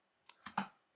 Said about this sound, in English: We hit enter